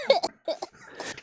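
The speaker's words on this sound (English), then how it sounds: "my auntie over here coughing, man" An aunt gives a few short, close coughs in quick bursts with brief gaps, raspy and a little wheezy, with no talking.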